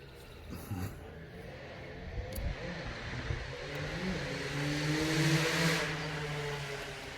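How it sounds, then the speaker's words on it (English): Dirt bikes revving outdoors, a rising engine whine that builds and holds near the end, moderately loud and somewhat distant, with faint background noise. "Now the dirt bikes are out."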